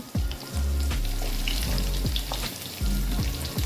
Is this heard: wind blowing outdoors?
no